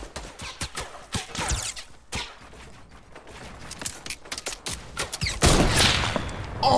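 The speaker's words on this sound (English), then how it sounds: "What are you shooting at?" Rapid gunfire in a video game, loud clustered bursts and crackling volleys with mechanical clicks, building to a dense roar near the end.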